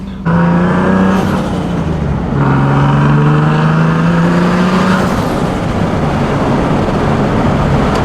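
A 2013 Nissan 370Z Nismo with about 100,000 miles and an added turbo, heard from inside while driving: loud, steady engine drone that climbs in pitch through gears, with a shift break near the two-second mark.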